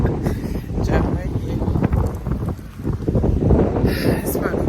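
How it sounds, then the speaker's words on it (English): Strong wind blowing outdoors, buffeting the microphone in uneven gusts while a person talks. "It's probably bad windy"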